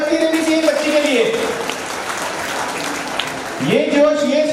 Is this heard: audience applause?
yes